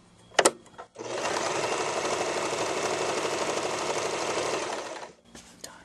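An Elna 1000 sewing machine runs an orange G overlock stitch, giving a loud, steady mechanical whir for about four seconds, with a few sharp clicks before it starts and after it stops.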